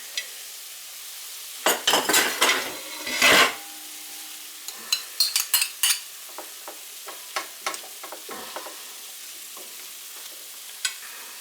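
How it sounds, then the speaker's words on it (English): Meat and vegetables are stir-fried in a pan, with a few loud clattering stirs and scrapes of a utensil early on, followed by lighter scattered taps and faint sizzling, and no talking. "Throw the vegetables in there."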